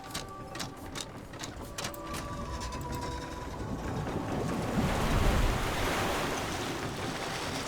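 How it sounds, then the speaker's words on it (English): Water rushes into the harvester in Myst IV: Revelation, a steady broadband wash that swells louder toward the middle and then eases slightly, with no talking. "Fill the harvester with water."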